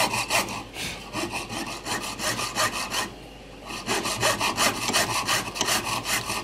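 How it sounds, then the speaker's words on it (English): A fine 32-teeth-per-inch saw blade cuts a replacement brass tooth for a Japanese 40-day wall clock, giving rapid, steady rasping strokes close up, with one brief pause midway before the sawing resumes. "This is a very fine blade on the saw. 32 teeth per inch."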